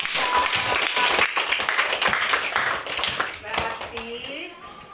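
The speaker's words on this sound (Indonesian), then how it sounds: "Bagus, tepuk tangan untuk Bapak." Classroom audience at an elementary school claps for a man, steady clapping that fades near the end as a voice begins speaking.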